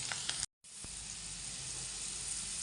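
Garlic browning in hot oil gives off a steady, close sizzle and hiss that drops out briefly near the start and then carries on evenly with no talk.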